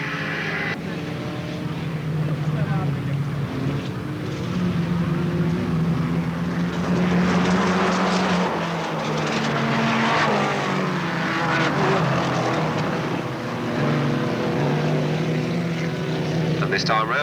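Racing motorcycles at Alwalton Raceway in 1983 drone continuously at middle distance, engine notes rising and falling as they lap, with a commentator talking over the noise throughout.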